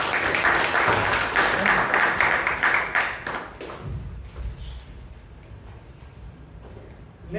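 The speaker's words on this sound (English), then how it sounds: "Nevertheless, a great speech and a big round of applause to Speaker Balakrishna Rao." An audience at a Toastmasters meeting breaks into a burst of clapping that lasts about four seconds, then fades to quiet room noise with a few scattered thumps.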